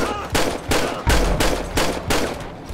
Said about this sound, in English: Dispatch, we got shots fired